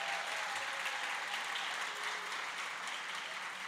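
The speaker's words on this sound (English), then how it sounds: "Give them a round of applause." An audience at the 2018 SOMOS gala dinner applauds with steady, dense clapping that holds at an even level throughout.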